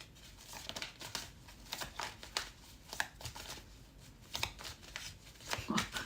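Faint, continuous papery flicking and crinkling as a deck of cards is shuffled over and over at close range.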